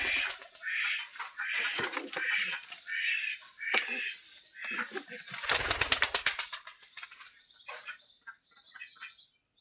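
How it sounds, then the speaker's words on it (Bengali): Pigeons take off from a rooftop with bursts of flapping wings and soft cooing, the wingbeats swelling into a loud rapid flutter midway before fading as the flock leaves. "কবুতরগুলো উড়ে যাচ্ছে আকাশে"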